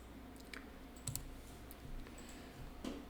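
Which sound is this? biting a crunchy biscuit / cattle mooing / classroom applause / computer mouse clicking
computer mouse clicking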